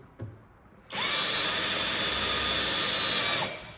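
A power drill whirs steadily at high speed for about two and a half seconds, loud and close, starting and stopping abruptly, drilling a hole to fit a mudguard on a Tucson NX4 car in a garage.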